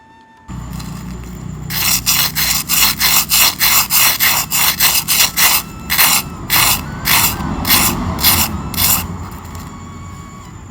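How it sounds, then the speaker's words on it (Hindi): Crispy fried snack of poha coated in besan batter crunches loudly and close, a rapid series of sharp brittle bites and chews that continue in bursts over a low background hum. "इसकी आवाज़ आप सुन ही सकते हैं कि ये कितना क्रिस्प बना हुआ है।"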